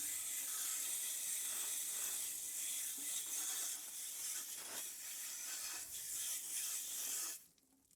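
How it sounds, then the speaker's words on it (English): Sprayer nozzle hissing as it blasts mud out of a goat's water tub, a steady close spray with shifting wet spatter that cuts off abruptly near the end. "Just use a sprayer to blow it out."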